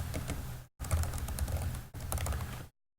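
Quick fingers tap on a computer keyboard, up close and quiet, in three bursts of rapid clicks broken by short pauses, with no voice.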